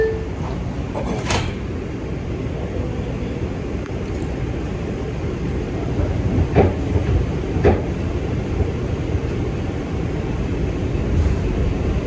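A Manhattan-bound New York subway 2 train runs with a loud, steady rumble and rattle heard from inside a car, with occasional brief squeals and clanks.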